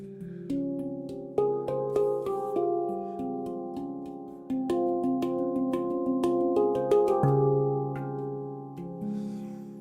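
An economical handpan rings out in clear, sustained metallic tones, with notes struck one after another in a gentle melodic pattern and left to resonate and overlap, played close and alone.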